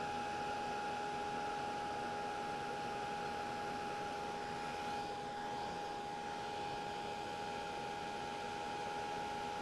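A hair dryer blows continuously on a painted snowman craft piece, a steady loud whooshing hum with a constant whine, close to the microphone and unbroken throughout.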